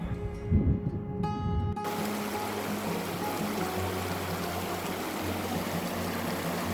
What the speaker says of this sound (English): Filling up the water bottles in this pretty little stream